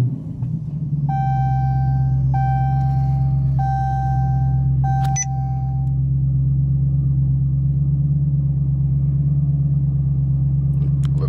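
A Dodge RT, Scat Pack or SRT car rumbles at a steady, deep idle after starting, with a few dashboard chimes over it early on and a brief knock midway.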